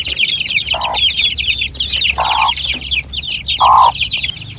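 Native chickens and chicks cluck close by in a farm pen, with repeated rhythmic clucks over a steady chatter of high chick peeps.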